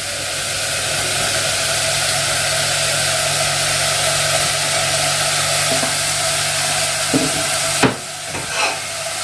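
Onions and red peppers fry in a pan with a steady, close broadband sizzle, and a few short clatters of stirring come near the end.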